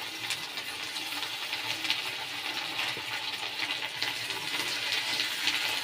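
Potatoes and cauliflower pieces fry in a pan of hot oil, giving a steady, soft sizzling hiss with no break.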